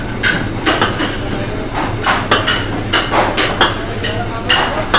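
A factory mixer churns maida and besan for soan papdi, giving off loud, regular metallic clanks and knocks about twice a second over a continuous mechanical hum.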